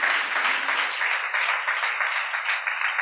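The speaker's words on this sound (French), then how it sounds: "Est-ce qu'on peut leur donner une main d'acclamation pour ces frères-là?" A church congregation gives applause in honor of the brothers: a steady wash of many hands clapping, fairly close and continuous for a few seconds, with no speech on top.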